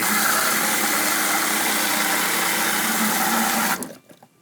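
Fresh water sprays and gushes hard from the sprayer on a 2024 Outpost 6.5 truck camper while its water system is being dewinterized, a loud steady rush that stops abruptly near the end.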